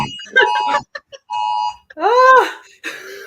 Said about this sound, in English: that's the emergency alarm